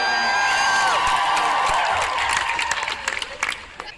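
Applause and cheering from a crowd at VidCon Europe, loud and sustained at first with scattered whoops, then thinning into a few separate claps as it fades.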